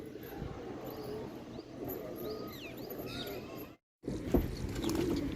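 Pigeons cooing and fluttering close by outdoors, soft repeated calls over a steady background hum with a brief dropout partway through.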